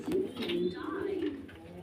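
Pigeons at a pigeon seller's coo softly nearby, a single low rolling call lasting under two seconds.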